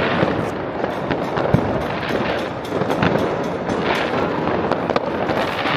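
New Year fireworks explode overhead in a dense, continuous barrage of crackling bursts and pops, with wind buffeting the microphone throughout.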